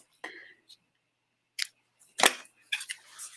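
Scissors snipping through a paper card during card making, a few short, close crisp cuts spaced irregularly with quiet gaps between them.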